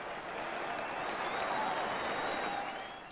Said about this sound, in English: The Watford team applauded Maidstone off the field.